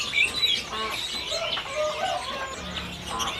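Caged songbirds at a stall in a bird market chirp and twitter in short bright calls, fairly close, over a busy background hum.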